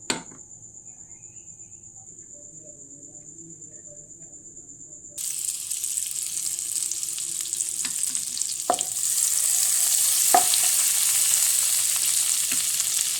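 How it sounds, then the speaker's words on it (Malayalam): Butter hitting a hot pan while making hotel-style butter kappa: a steady quiet hiss jumps to a louder, brighter sizzle about five seconds in, with a few clinks from the pan and a faint high tone throughout. "പാൻ ചൂടാകുമ്പോൾ നമുക്കതിലേക്ക് ബട്ടറാണ് ഇട്ട് കൊടുക്കേണ്ടത്."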